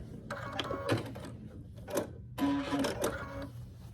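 A sewing machine stitches quilt binding diagonally from corner to corner in short close bursts of rapid mechanical whirring, each separated by pauses, with no talking over it.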